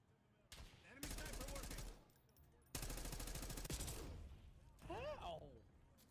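Bursts of rapid automatic gunfire from a video game sound in two long volleys, with a shorter burst near the end, and a voice speaks between the shots.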